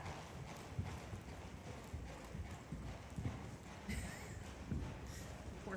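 Hooves clip-clop in a steady, unhurried rhythm at close range, with a faint airy background hiss.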